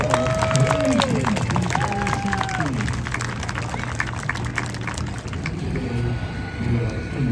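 Sustained applause and clapping from an outdoor airshow crowd as skydivers land, a dense steady wash of hands with some cheering, a public-address voice and passing engine tones mixed underneath.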